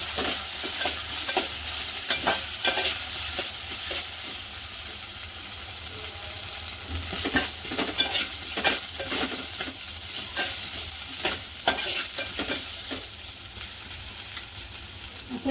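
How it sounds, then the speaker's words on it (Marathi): Rice grains sizzle in hot ghee in a pan while a spoon stirs and scrapes them repeatedly, a steady close frying hiss punctuated by irregular stirring clatters, with no talking. "हे सुद्धा या तुपावर छान असे परतून द्यायचे"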